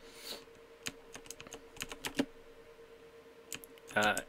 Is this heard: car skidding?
no